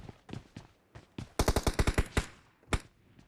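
Rapid gunfire in a battle royale video game: a string of sharp, loud bursts fired in quick succession, preceded and followed by a few scattered single shots, with no talking.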